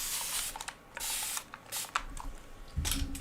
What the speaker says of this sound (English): if it starts getting too dry, you have the mister, remember? Just spray it over the top of it.